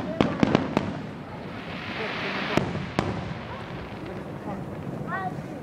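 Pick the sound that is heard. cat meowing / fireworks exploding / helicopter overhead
fireworks exploding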